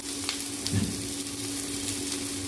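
Chicken liver dropped into a hot pan of fried ground masala for a village-style liver fry, a steady close sizzle with a brief louder burst of spitting as the pieces go in, no voices.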